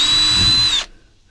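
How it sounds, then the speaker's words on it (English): A power drill fitted with a star bit spins out screws from the window frame of a Casita travel trailer, giving a loud, high whine that lasts under a second and then stops sharply. "Now, get your drill. You're going to need, it looks like kind of like a star bit for these windows."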